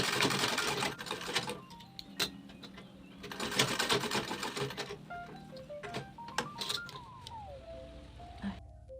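A sewing machine back stitching while a bag is made, running in close, loud bursts of rapid mechanical stitching with short pauses between runs.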